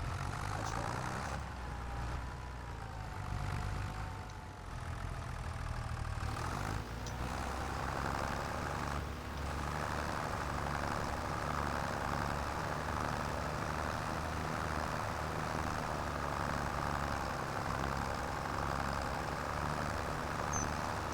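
A rented farm tractor engine idles with a steady low rumble and a constant drone, close by and unbroken, with no talking.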